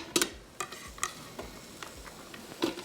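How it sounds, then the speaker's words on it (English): Onions sweat in olive oil inside a Ninja Foodi, a soft sizzle under a few light ticks and scrapes from stirring, quiet and close with no talking. "Let's get the onions in there, get them sweating."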